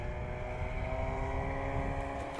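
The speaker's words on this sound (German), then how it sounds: "Auf dem Buran, dem Motorschlitten, bringen sie ihre Beute heran." A Buran motorised sled hauling hunters' catch of frozen fish across the Siberian snow near the Yenisei, its engine a steady, continuous drone with a low rumble and faint overtone hum, fairly close and unbroken, with no voices.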